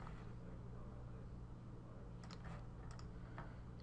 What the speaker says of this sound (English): You can also use your keyboard to insert things into the equation editor